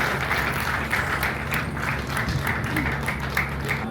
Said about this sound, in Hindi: जोरदार तालियां भैया हमारे साहब के लिए।